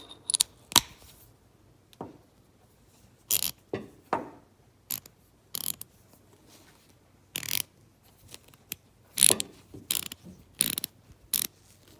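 A small Snap-on 1/4-inch drive ratchet with an extension clicks through short bursts of rapid pawl ticks, loud and close, separated by brief pauses of near silence.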